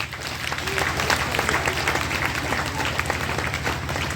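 Applause from a congregation at an outdoor Christian healing gathering, steady dense clapping with a crowd murmur beneath, continuous and fairly loud throughout.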